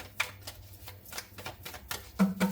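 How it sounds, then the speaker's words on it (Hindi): Tarot cards drawn from a deck and handled at close range, a run of soft papery flicks and slides, quiet and irregular with no voices. "अब मैं यहां से भी कार्ड्स निकालना चाहती हूँ कुछ डिफरेंट कॉजेस के लिए"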